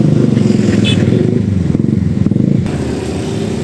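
A motorcycle engine idles and rumbles up close as the bike is ridden in and parked beside a roadside demolition site in Kali Malang, Cikarang, with light clattering and scraping around it.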